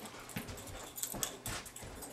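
A dog named Tucker during jump training gives soft whimpers and quick panting breaths, close by, in short irregular bursts with small rustles between them.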